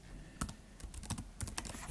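Quiet typing on a computer keyboard: a short, uneven run of soft key clicks, close by but faint, with no talking.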